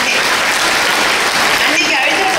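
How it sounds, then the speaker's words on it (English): A school annual day crowd gives loud sustained applause, a dense roar of clapping filling the hall, with voices mixed in. "I think we need to give him a very, very big round of applause"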